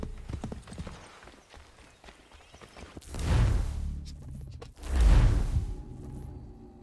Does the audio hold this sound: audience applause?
no